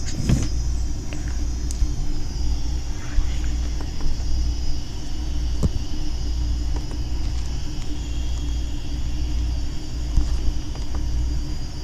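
A truck engine in the Rigs of Rods driving-simulator game holds a loud, steady, low rumbling drone throughout, with no talking.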